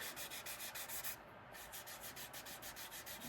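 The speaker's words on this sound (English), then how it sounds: "Give it a nice little sand." A sanding block is rubbed back and forth along the edge of a leather trifold wallet, making a steady, close, rhythmic scratchy hiss with one short pause partway through.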